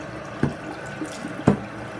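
A tap runs water into a sink while a makeup brush is cleaned, a close, steady trickle with two brief splashy bursts as the water hits, with no voices.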